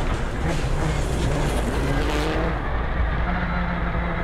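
A rally car on a Rally Australia power stage accelerates hard in fifth gear, its engine screaming loud and close in a steady, strained roar with rough gravel noise underneath, easing slightly near the end.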